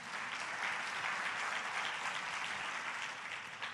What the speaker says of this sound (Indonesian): Boleh berikan tepuk tangan gak untuk Tuhan?